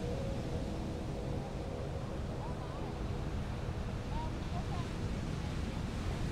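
Ocean waves at a beach at sunrise, a continuous roar of surf mixed with wind buffeting the microphone, steady and fairly loud throughout with no voice over it.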